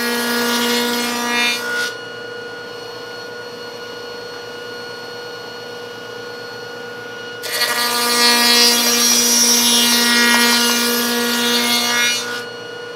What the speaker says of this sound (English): What I'm doing here is making the corresponding 1/8 inch dado cut.